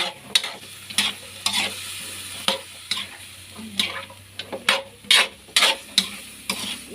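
Sautéed bottle gourd with corned beef is stirred in a pan, giving sharp, irregular scrapes and knocks over a low sizzle. The strokes are close and repeat every second or so.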